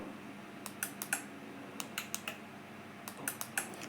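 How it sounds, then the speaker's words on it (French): Relays in a 2014 Peugeot 308 module click during key programming on a bench: a few quick clusters of sharp, light clicks, close and fairly quiet, with no talking. "Vous entendez les relais?"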